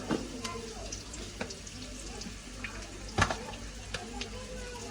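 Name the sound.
garlic and fenugreek frying in hot oil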